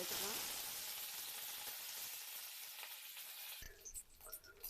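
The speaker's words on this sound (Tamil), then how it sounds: "கடாயில் எண்ணெய் ஊற்றி கடுகு உளுத்தம்பருப்பு போட்டு கடுகு பொரிஞ்சதும் சிறிதளவு கருவேப்பிலை சேர்த்துக்கலாம்." Mustard seeds, urad dal and curry leaves fry in oil in a kadai for a coconut chutney tempering, giving a loud close hiss and crackle that drops away near the end into light clatter.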